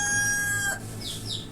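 Caged chickens on a poultry farm let out a single loud, drawn-out crowing call that breaks off abruptly, followed by softer clucking and rustling close by.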